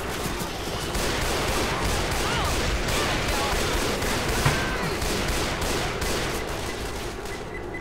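Gunfire in the co-op zombie shooter Left 4 Dead 2, a dense, continuous rattle of shots over steady game noise, with no clear pauses.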